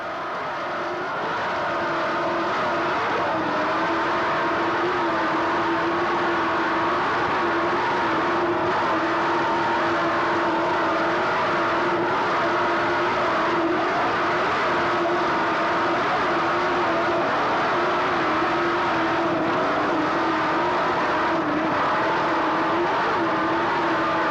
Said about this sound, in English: Just listen to what this boat can do here in the open waters.